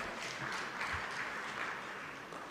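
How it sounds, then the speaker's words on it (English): A seated audience at a civil society forum claps for a panel and its moderator, a soft, steady patter of hands heard at some distance and tapering slightly at the close. "Let us give the panel and the moderator a very, very big round of applause."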